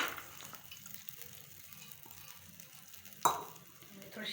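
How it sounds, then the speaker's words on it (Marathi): Moth beans tipped into a little hot oil in a pan for a spicy Maharashtrian curry, giving a faint steady sizzle with a brief louder splash as they land, then soft frying. "तर यामध्ये आपण आपली मटकी टाकूयात।"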